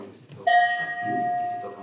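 The bronze bell of Coruche is struck once slightly higher up, giving a single metallic strike with a sustained, shimmering tone that lingers and slowly fades, with faint murmuring in the background.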